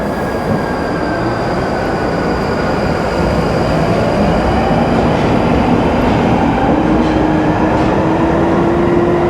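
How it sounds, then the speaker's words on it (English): London Underground Northern Line tube train pulling away from a platform toward Morden, a steady loud rumble with a slowly rising motor whine building as it accelerates, heard alone without talk. "this train is now departing for Morden."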